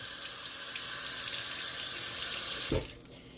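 Steady rush of water running from a tap into a sink as pans are rinsed, continuous and close, with a brief clatter near the end as the flow shifts.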